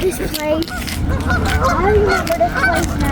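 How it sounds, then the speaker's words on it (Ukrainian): Several geese honk in overlapping calls at a carp lake in the US, over a steady crowd-like murmur, with bursts of honking scattered throughout. "Тут дуже багато гусей"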